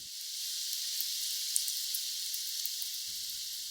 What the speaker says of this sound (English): There are thousands of Dermestid beetles working as the tiniest creature